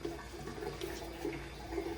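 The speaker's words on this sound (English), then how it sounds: "with a big fat drain plug, so it will come splashing right out of here" Engine oil pours steadily from the large drain plug of a 2019 Subaru Ascent 2.4L turbo, a continuous close, splashing gush of liquid into a pan.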